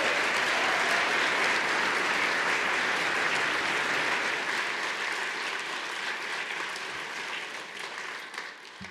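Sustained audience applause at the Westminster Town Hall Forum for a band, a dense, steady wash of many hands clapping that fades slightly toward the end.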